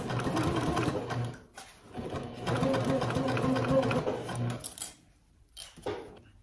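A sewing machine stitches a back tack on a trick-or-treat bag in two fast, steady runs separated by a brief stop, then gives a few short bursts, close and clear.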